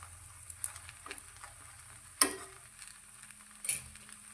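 A cabbage Manchurian paratha, made without maida, sizzles softly in a pan after a single drop of oil is spread on top, with a steady low frying hiss and a few sharp ticks and scrapes.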